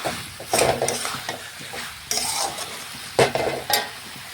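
A spatula scrapes and stirs mutton with spices in a pan, sizzling steadily beneath rhythmic scraping strokes, close and fairly loud, with no voices.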